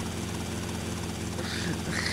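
A steady helicopter rotor drone in GTA Vice City fills the clip, a dense mechanical whir holding at constant loudness with faint background noise.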